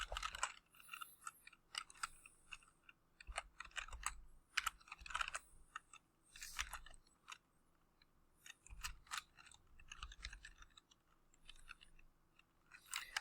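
Typing on a computer keyboard, with quiet, irregular bursts of close key clicks and short pauses between words. No voices are heard.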